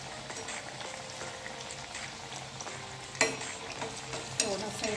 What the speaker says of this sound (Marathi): मध्यम आचेवर आपल्याला फ्राय करून घ्यायचे आहेत